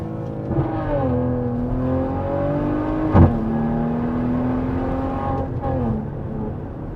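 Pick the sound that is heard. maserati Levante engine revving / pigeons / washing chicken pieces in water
maserati Levante engine revving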